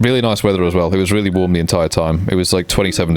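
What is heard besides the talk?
No everyday noises stand out.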